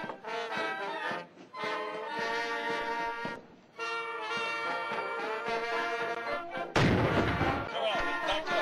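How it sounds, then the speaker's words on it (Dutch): A cannon being loaded and fired goes off as a sudden loud, broadband boom late in the passage, cutting through steady tonal, music-like sound. "ik was gewoon blij dat de kanon afging"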